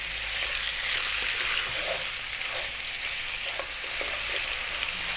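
Mutton pieces sear in a pan over medium-high heat for an Indian mutton curry, giving a steady, loud, close sizzle with a few faint clicks of stirring and no voices.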